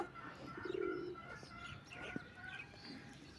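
Low, soft cooing of pigeons nearby, a few murmuring calls with faint chirps in a quiet setting.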